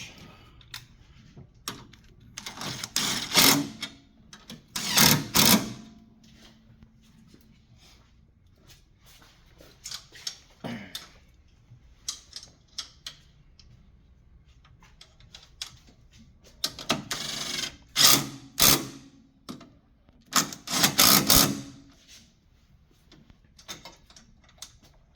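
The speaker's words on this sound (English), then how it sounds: "That one's gonna have to be with a wrench" A wrench works the strut tower brace nuts on a 2007 BMW E85 Z4, with clusters of close metallic ratcheting clicks in two bursts separated by quieter handling noises.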